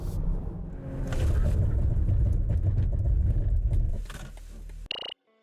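A 2022 BMW X5 M50i SUV under hard braking in winter conditions: loud, steady road and engine rumble for about four seconds, tapering as the heavy vehicle slows, then a brief mechanical sound before quiet.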